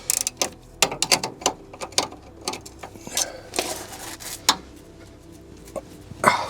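Irregular metallic clicks and knocks close by as a spanner works the shock absorber bolt on an LTI TX4 London black cab, in scattered bursts with short pauses between.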